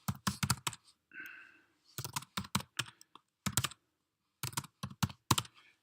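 Someone types a command on a computer keyboard to start an app on a Raspberry Pi, producing close, crisp key clicks in quick bursts separated by short pauses.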